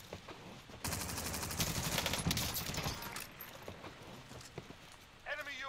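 A no-recoil PPSh-41 submachine gun in Warzone fires a loud, rapid string of shots that lasts a couple of seconds, followed by scattered distant gunfire and game noise, with a player talking over it.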